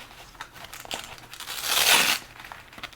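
Padding material on a battery head strap for a Meta Quest 3 VR headset being peeled back, a close crinkling, tearing rustle that swells loudest near the middle and then fades to light handling noise.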